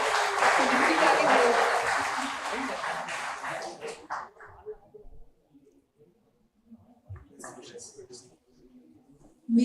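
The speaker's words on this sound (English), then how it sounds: "all the students should have a huge round of applause for your colleagues" At a college convocation, a crowd gives a broad round of applause that swells loud for several seconds and then dies away, followed by quiet room sounds and a few voices.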